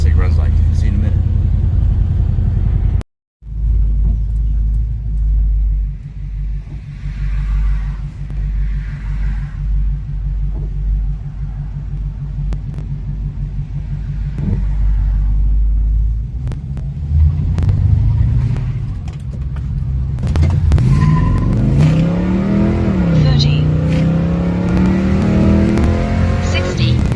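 A car fitted with a repaired posi-traction rear end, new gears and a mini spool rumbles at idle, then accelerates hard with a rising engine note during a timed run, as people talk inside the cabin.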